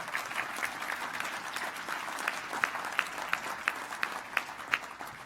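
Applause from the audience at a governors' association winter meeting opening ceremony, moderately loud clapping with a few sharp, distinct claps standing out near the front as it goes on.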